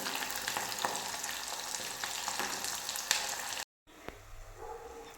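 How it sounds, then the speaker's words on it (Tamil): Lentil dumplings for a traditional paruppu urundai kuzhambu fry in plenty of hot oil, giving a steady, dense sizzle close by that drops out briefly, then carries on more softly with occasional crackles. "கொஞ்சம் எண்ணெய் தாராளமாக இருந்தால் தான் நல்லாயிருக்கும் அதனால தான் இது கொஞ்சம் வேகட்டும்"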